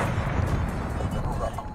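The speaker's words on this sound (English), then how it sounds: "Enemy cruise missiles coming." Enemy cruise missile strikes rumble in a video game, a brief dense booming roar of impacts with low thuds, with game voice chatter mixed in.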